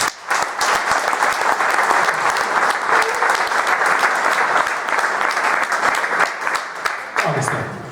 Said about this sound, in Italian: le facciamo un bel applauso